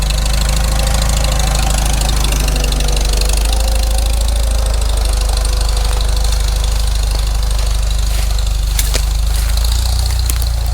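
A Farmall Super M tractor engine idles steadily with a deep, throbbing low-end thrum and a knocking rhythm, loud and close throughout, with a few faint clicks near the end and no talk.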